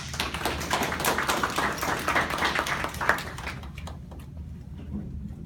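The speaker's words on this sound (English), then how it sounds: "Let's please give him a round of applause." Audience applause after a speaker is introduced at a talk, a dense wash of clapping from a room of listeners that fades out over the last seconds.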